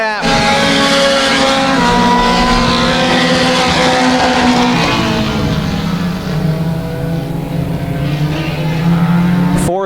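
Mini stock race cars roar around a dirt track at Genesee, engines droning and shifting pitch as the field spreads out, loud and continuous with a voice faintly underneath.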